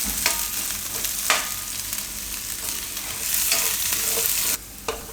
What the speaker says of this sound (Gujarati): થોડીક વાર ડુંગળીને આમાં પાકવા દેવાની, થોડીક સોફ્ટ થઈ જાય એવી.